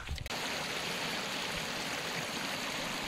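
A spring-fed stream beside a winter wild campsite near Pontsticill Reservoir in Wales gives a steady, close rushing trickle that continues without a break, after a brief thump at the start and with no talk.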